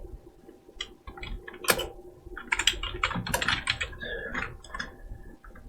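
Typing on a computer keyboard while writing code, close and clear, with bursts of rapid clicking keystrokes broken by short pauses and a few heavier key hits.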